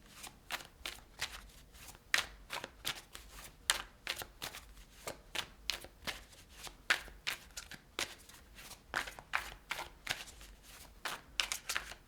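Tarot cards being shuffled by hand, a steady run of crisp riffling snaps repeating about every half second, close and fairly quiet with no talking.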